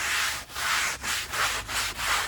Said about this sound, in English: now I'm just going to take a towel and I'm going to rub